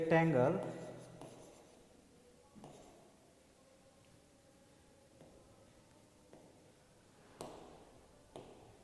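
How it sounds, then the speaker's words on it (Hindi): A rectangle's definition is written out by hand, heard as soft, intermittent pen scratches and taps at close range, with a brief louder burst of sound at the start. "तो इसको भी लिख लेते हैं इसका डिफिनेशन"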